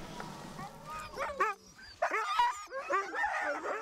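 Sled dogs kept for hunting bark, yip and whimper in quick overlapping bursts close by, several animals calling over one another in a lively, uneven chorus.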